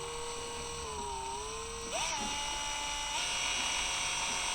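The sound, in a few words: mix drill gently mixing in a cup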